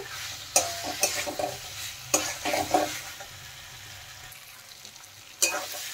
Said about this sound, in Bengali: এখন আমি দিয়ে দেব ভেজে রাখা পটল আর আলু, দিয়ে আরেকটু নেড়ে চেড়ে মশলার সাথে মিশিয়ে দেব